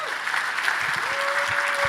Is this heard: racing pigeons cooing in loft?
no